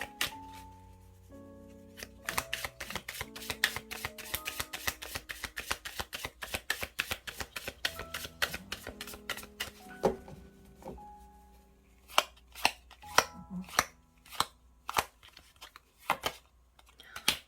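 Tarot cards are shuffled and drawn in a rapid run of crisp riffling flicks and slaps that later thin into separate snaps, while someone talks over part of it.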